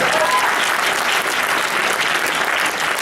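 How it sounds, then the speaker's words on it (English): Dense, even clapping from a convention panel audience at Ichibancon, sustained at a steady level throughout with no voices breaking through. "Give a round of applause."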